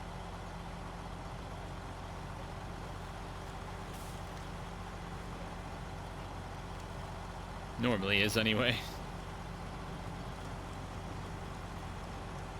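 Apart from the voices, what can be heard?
truck engine driving in the video game Snowrunner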